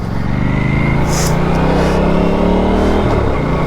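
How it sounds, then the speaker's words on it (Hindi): An Aprilia Tuono 457 motorcycle is ridden on a road in Himachal Pradesh, its engine droning steadily with rising and falling revs under continuous wind noise. "चलो फिर चलाते हैं इस बाइक को, देखते हैं कैसे चलती है ये बाइक।"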